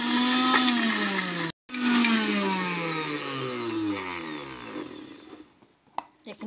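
A mixer grinder grinds dried red chillies for a pork dish, a loud steady motor whine that winds down in pitch after a brief cut, then fades to near silence with a few small knocks.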